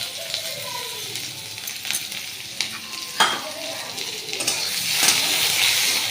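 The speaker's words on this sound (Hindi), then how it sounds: "पियाज लाल है पर्यंत भलसे भाजवा" Onions fry in hot oil in a kadai with a steady sizzle, while a spoon stirs and scrapes in short bursts, close and fairly loud throughout.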